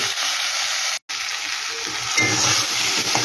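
Kashmiri chilli powder sizzles in hot oil in a pan, a steady close frying hiss broken by a brief gap and followed by soft stirring scrapes.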